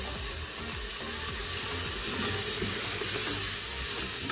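Tomato cooking in olive oil in a pan, during preparation of chicken with carrots, gives a dense, continuous hiss and sizzle, loud and close, with no speech.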